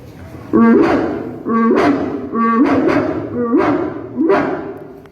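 A girl at a school youth festival imitates a rich household's dog barking, five deep, drawn-out woofs in a row, loud and close, with short pauses between them.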